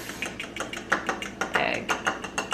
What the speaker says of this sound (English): we're gonna take this fork and whisk up our flax